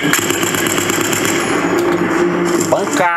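Rapid, continuous bursts of automatic gunfire from a video game, played through Redragon Stentor PC speakers at maximum volume, loud and close, with game sound effects filling the background.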